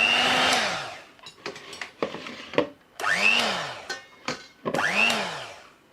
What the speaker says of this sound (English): This thing is freaking loud. Yeah, said. We call that a mixer,